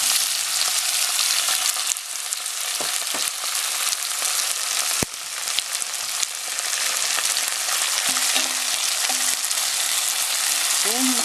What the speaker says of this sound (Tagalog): So, lagay natin itong onion. Lagay natin yung tomatoes.